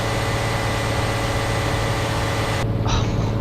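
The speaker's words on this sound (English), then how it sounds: "Oh, listen to that engine." A heavy truck engine in Euro Truck Simulator 2 drones at high revs, a steady, dense, loud hum with a strong low tone that holds evenly throughout before the higher hiss cuts out near the end.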